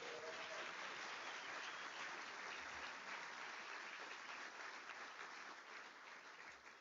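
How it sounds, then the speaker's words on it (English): Sustained audience applause for PhD graduates at a medical college hooding ceremony, a dense steady wash of many hands clapping that holds throughout and fades slightly at the end. "please join me in another round of applause for our PhD graduates"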